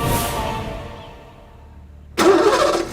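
A car engine cranks and catches abruptly, roaring to life loudly after a quieter stretch of low background rumble, then holding a steady running note to the end.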